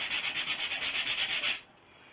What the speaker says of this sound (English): just roughing up the plywood